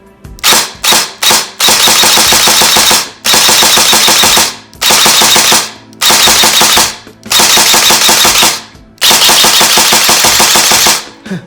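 An Avengers M4 airsoft electric gun with a micro-switch trigger fires loud, close bursts of rapid shots, the first few very short and the rest longer, separated by brief silences as the trigger is pulled and released.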